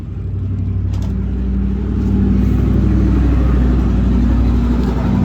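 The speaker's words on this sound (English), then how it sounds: "Noisy van driving by." A noisy van passes nearby, its low engine rumble swelling steadily and holding strong for several seconds.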